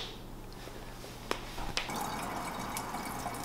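Water drips and trickles from an unexpected source during a trail run, with a few sharp drip impacts standing out over a steady low background of flowing water. No one speaks.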